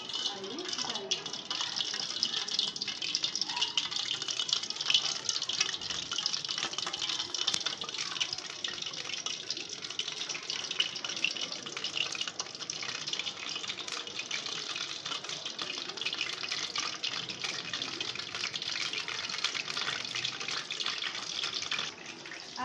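Food fries in hot oil over medium heat, giving a steady, hissing sizzle that stays even and moderately close for the whole stretch, with no break or change in intensity.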